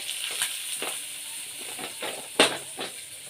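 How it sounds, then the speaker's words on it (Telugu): Hot mustard seeds and curry leaves sizzle as the tempering is poured into peanut chutney, a steady crackling fry with scattered pops and one sharp burst, close and moderately loud, with no talking. "తిరగమాత బాగా వేగింది కదా. ఇప్పుడు చట్నీలో పోసుకుందాం."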